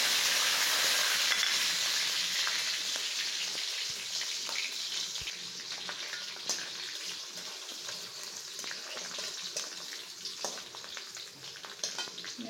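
Onion, garlic, cinnamon, cardamom, cloves and bay leaves frying in oil in a kadai on the stove give a steady, close hiss and crackle of sizzling that continues evenly with no talking.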